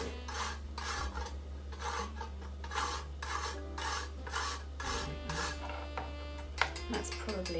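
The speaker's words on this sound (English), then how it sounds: "I've got a nutmeg here, and I'm just going to grate some of this" Whole nutmeg rubbed against a grater for mulled wine, a steady series of short rasping strokes in a regular rhythm, close and moderately loud over a constant low electrical hum.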